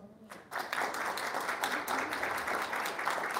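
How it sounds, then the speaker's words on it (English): A crowd at a congressional candidates' town hall applauds steadily, many hands clapping together in a dense, continuous wash after a brief quiet start. "Could the organizers of this stand and get a round of applause?"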